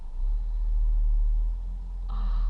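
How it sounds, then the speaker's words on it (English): A lorry passes on a nearby road, a steady low engine rumble that swells and holds, with a brighter mechanical tone entering near the end. "See, that lorry going past really hurts my head."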